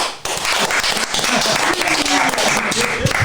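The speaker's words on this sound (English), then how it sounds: "we'll do another clap" Clapping from a small group of podcast hosts and guests in a studio, a dense loud patter of hand claps running steadily throughout, close to the microphone.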